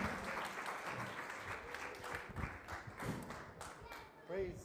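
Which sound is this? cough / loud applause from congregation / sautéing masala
loud applause from congregation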